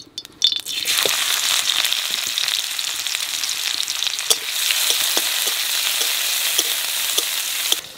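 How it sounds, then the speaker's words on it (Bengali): Garlic hits hot oil in a kadai-style wok and keeps frying with a dense, close crackling sizzle for several seconds, broken by light stirring clinks. "এবার তেলের পর দিয়ে দেবো রসুন।"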